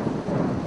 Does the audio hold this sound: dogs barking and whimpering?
no